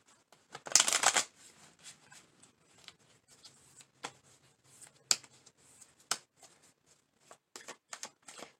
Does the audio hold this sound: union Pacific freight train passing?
no